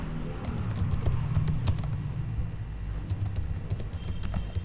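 Keys clack steadily on a computer keyboard as a message is typed, light irregular taps close by over a low room hum.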